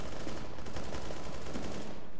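Dense gunfire from a competitive Counter-Strike: Global Offensive match crackles continuously and loudly, with rapid overlapping shots that include shotgun blasts and no pauses.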